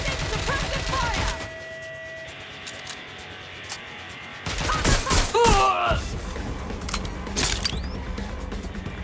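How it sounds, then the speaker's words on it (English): Rapid bursts of gunfire in the video game Watch Dogs Legion, with sharp clustered shots and scattered loud cracks over a busy game soundtrack and effects. "Providing suppressive fire!"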